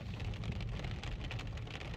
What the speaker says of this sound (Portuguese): como está chovendo aqui nos arredores de Jerusalém